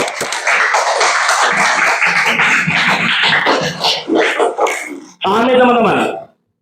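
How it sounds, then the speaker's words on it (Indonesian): A classroom of students claps together for a classmate who answered a question, with steady, close applause and chatter for about five seconds, followed by a brief burst of excited voices. "Tepuk tangan dulu buat yang tadi menjawab."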